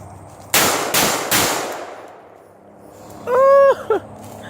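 Three sharp, loud AR-15 rifle shots fired outdoors in quick succession, each with a short echoing tail, followed by a brief faint voice-like tone.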